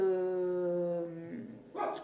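A dog yips and whines in a high, drawn-out tone, then gives a short sharp bark at the end, heard fairly faintly and nearby indoors.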